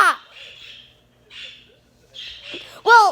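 Pet birds calling indoors in loud, shrill bursts with a sharp chirp at the start and end and softer chattering phrases between, close and fairly loud, with no talk.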